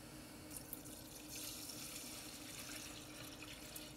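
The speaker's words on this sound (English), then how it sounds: "And we're going to fill this all with water" Tap water pours steadily into a plastic bin that serves as the tank of an Anycubic resin wash station, giving a soft, continuous splashing rush with no voices.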